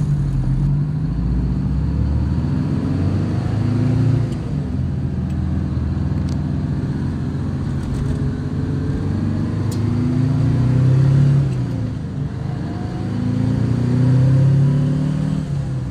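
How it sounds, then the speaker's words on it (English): A big rig truck cruises down the road, heard from inside the cab as a steady, loud low engine rumble and drone, with gear changes and slowly rising and falling engine pitch. "So here we go down the road. This is my first time in a big rig like this as well."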